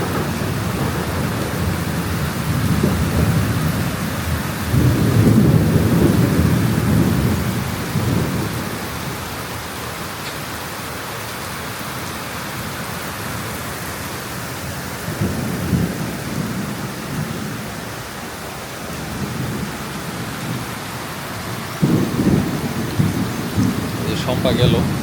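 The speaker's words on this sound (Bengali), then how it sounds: "এত বেশি বজ্রপাত" Heavy rain pours without pause during a village thunderstorm that also brought hail, while deep rolls of thunder rumble up several times beneath the downpour.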